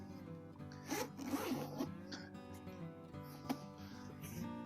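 A zipper being pulled closed along a leather tote bag from Portland Leather Goods, a close, dry rasping run with short pauses and restarts.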